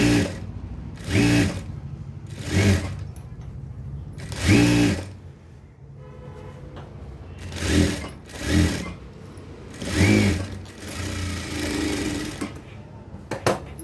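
A sewing machine runs in repeated short bursts while double stitching a dress, each whirring run of a second or so separated by pauses filled with quiet handling noise.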